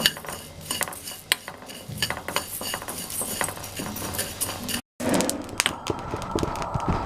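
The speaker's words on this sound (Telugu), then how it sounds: "గోల్డెన్ ఫ్రై వచ్చేంత వరకు వేపుకోవాలి." Spices are roasted and stirred in a pan, with frequent metallic clinks and scrapes of a utensil against the pan, close and irregular, with a brief cut before the stirring resumes.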